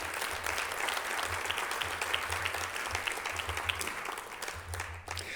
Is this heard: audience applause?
yes